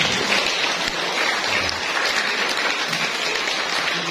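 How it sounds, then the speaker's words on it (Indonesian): Congregation clapping for a church choir at a Sunday Mass, a sustained, even applause of many hands throughout, moderately loud and close. "Juga kita berikan aplaus untuk kor dari Rukun Vincentius"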